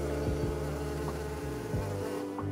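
Steady buzzing of Australian native bees, including furry teddy bear bees, close and continuous, with the pitch wavering as wings shift, and no voices.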